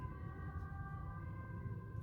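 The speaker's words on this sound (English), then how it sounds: "It's an ambulance." An ambulance siren wails faintly at a distance, its steady tones sitting over low background rumble, no voices.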